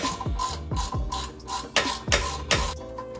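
A ratchet turns a bolt on a car during a Mk2 ST to RS conversion, a close, repeated clicking in short bursts with a steady rhythm.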